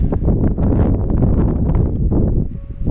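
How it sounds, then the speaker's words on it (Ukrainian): Gusty wind on a mountain top buffets the microphone in a rough, continuous roar that rises and falls, loud and close, with no other sounds. "Зараз наверху вітер."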